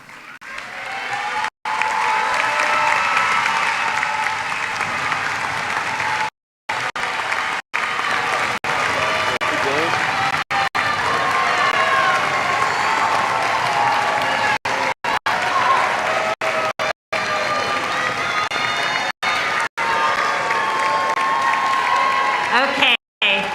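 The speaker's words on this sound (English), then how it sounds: "we can't clap enough" Sustained applause and cheering from a ceremony audience at a white coat ceremony continue loudly for a long stretch, with a few brief cut-outs and faint voices within the crowd noise.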